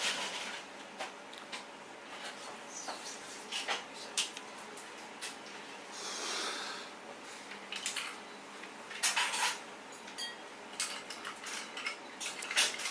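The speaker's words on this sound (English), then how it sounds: "Some more ice." Ice cubes dropped one by one into a cocktail glass, giving a series of small clinks and glassy knocks, close and fairly quiet, with a longer rattle of ice partway through.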